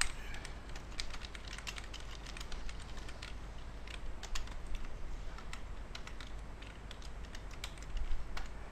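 Typing on a computer keyboard while writing HTML and PHP form code: a steady stream of close, crisp key clicks with uneven rhythm and occasional louder strokes, alone over faint room hiss.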